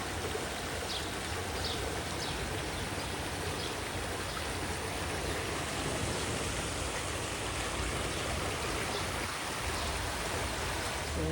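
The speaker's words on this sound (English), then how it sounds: "All that water coming down on the streets." Heavy rainstorm runoff from Hurricane Erick flowing down the streets near the beach at Las Glorias, a steady dense rushing wash of water that stays constant and loud throughout, with no voices.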